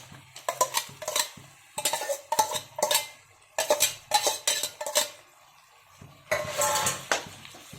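Cooked drumstick pieces tipped from a vessel into a cooking pot for murungakkai sothi, giving a run of clattering, knocking bursts of metal and food, then a longer rattling pour near the end.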